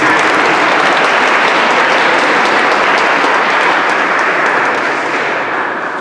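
A crowd at a Christmas concert in a sanctuary applauds the presenter, a loud, dense, reverberant wash of clapping that stays full for several seconds before easing slightly at the end.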